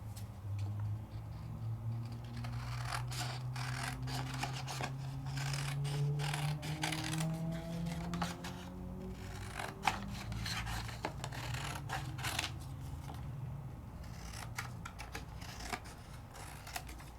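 Scissors cutting freehand through a sheet of craft card, giving steady snipping and rasping strokes that run continuously at close range with no talking.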